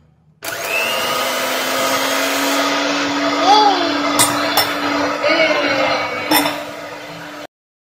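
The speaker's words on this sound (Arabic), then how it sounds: "ونطرب المكونات كلها" An electric mixer beats eggs, sugar and vanilla into cupcake batter, a close, steady motor whine with a few light clinks of the beaters against the bowl and faint voices underneath.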